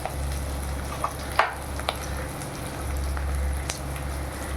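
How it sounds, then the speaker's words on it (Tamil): Green chillies sauté in a pan for a dried-fish thokku, giving a steady close sizzle and frying hiss with a few light clinks of stirring throughout. "கொஞ்சம் பச்சை மிளகா போட்டிருக்கேன். நல்லா இது வதங்கட்டும்."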